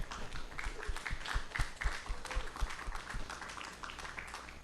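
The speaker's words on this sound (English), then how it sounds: "let's go ahead and give Monroe a round of applause." Audience applause for Chris Monroe at the close of a talk on monetizing a brand in the music industry: a steady, fairly close wash of many hands clapping that holds evenly throughout.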